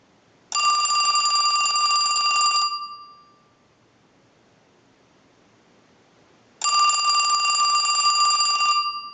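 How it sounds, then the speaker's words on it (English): An AT&T Trimline telephone bell driven through a ring cycle by a line analyzer gives two loud, close bursts of about two seconds each, separated by a long silent pause. "send a ring cycle like you were getting a call"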